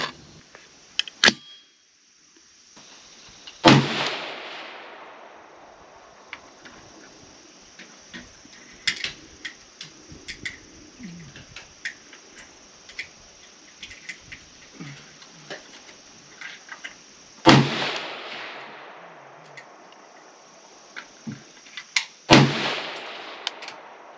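Suppressed 5.56 rifle shots with 77-grain ammunition at a range, a few sharp muffled reports spaced several seconds apart, each with a brief decaying ring, over a faint steady background hum and small ticking handling noises.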